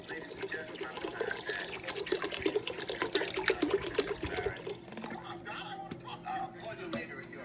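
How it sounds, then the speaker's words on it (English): Water pours steadily into a pot, a close splashing gurgle that thins out and trickles to a stop near the end. "I'm also going to add a bottle of water."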